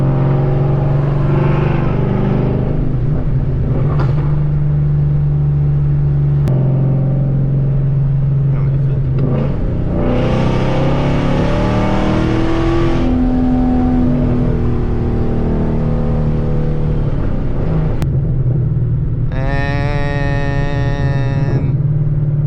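A supercharged Ford Mustang GT accelerates hard in third gear, its engine droning steadily and loudly from inside the car, with rising whine during the pulls and a voice speaking over parts of it.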